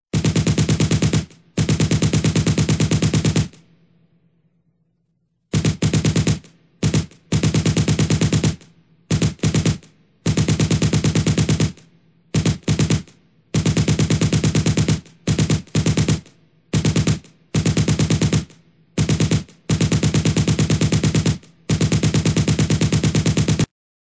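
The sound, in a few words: gunfire from a gun in a Sonic animation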